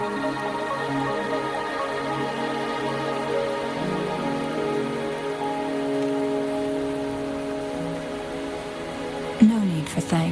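Rain falls steadily in the game Wuthering Waves, a soft, even wash of droplets blended with sustained background music and a brief louder shift near the end.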